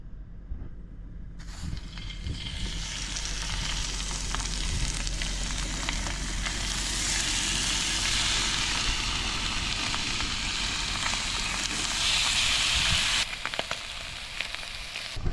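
Fish laid skin-down in hot coconut oil in a pan, giving a steady, loud sizzle and crackle that rises almost at once and holds unbroken, with no talking.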